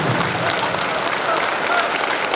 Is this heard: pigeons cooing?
no